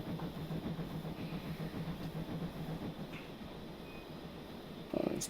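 A train runs in a train simulator game: a steady rumbling drone with faint rhythmic clicking of wheels over rail joints, then a brief louder rattle near the end.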